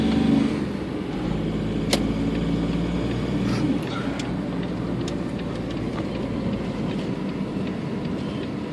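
A Smart car accelerating on a city street, a steady low engine and road rumble heard from inside the cabin, with a few faint clicks and knocks along the way.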